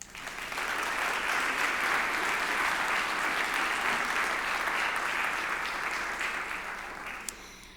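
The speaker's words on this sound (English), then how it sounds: "Please give another round of applause to Viola Asoskova on the piano and Lo Arugas on cello." A large audience at a digital summit welcome session applauds the pianist and cellist, with sustained, even clapping that swells quickly and then tapers slightly near the end, heard alone without speech.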